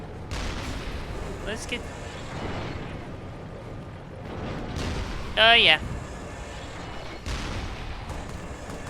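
A tank's main cannon fires in the game Resistance: Fall of Man, heavy booms recurring among battle noise while someone talks over it.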